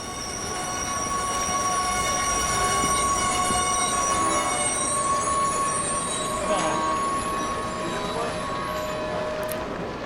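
A train slows toward a halt at an elevated platform, its wheels squealing in steady metallic tones over a continuous loud rumble of railcars rolling close by.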